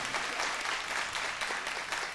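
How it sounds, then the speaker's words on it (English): A hall audience at a live show claps for a performer, a steady, even patter of many hands at moderate volume lasting the whole stretch without talk. "Brother Richard Merritt another nice round of applause."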